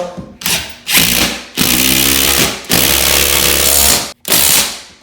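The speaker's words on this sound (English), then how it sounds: "We highly recommend the impact wrench. That'll get it, make some noise, but here we go." An impact wrench drives a lag bolt into a wall stud while a TV wall-mount bracket is installed, giving four loud, harsh hammering bursts of about one second each, separated by brief pauses, close and with no speech.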